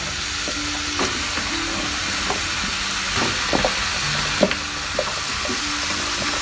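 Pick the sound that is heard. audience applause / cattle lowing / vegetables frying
vegetables frying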